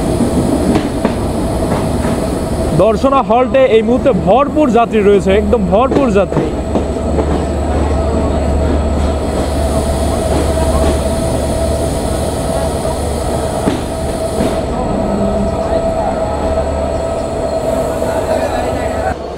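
Simanta Express night train standing at Darshana Halt station in Chuadanga, with a steady low rumble and hum of the train throughout, while someone talks over it and a crowd of passengers murmurs nearby.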